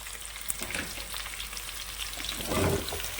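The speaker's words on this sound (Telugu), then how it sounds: "కొద్దిగా దూరం ఎగిన తర్వాత ములక్కాయ ముక్కలు వేసేసుకోవాలండి." Onions and drumstick pieces fry in hot oil in a pan, giving a steady soft sizzle with light crackles throughout and a slightly louder hiss near the end.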